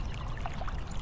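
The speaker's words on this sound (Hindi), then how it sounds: "ओहो बबलू भाई, आप पानी जाया कर रहे हैं" Cartoon water runs steadily in a soft, continuous pouring trickle with a few brighter splashy flickers, fairly quiet and heard alone without any speech.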